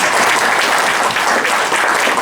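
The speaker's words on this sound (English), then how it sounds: "We all give Pam a round of applause." A loud, dense round of applause at a political campaign event for a governor candidate, sustained and close with no voices on top.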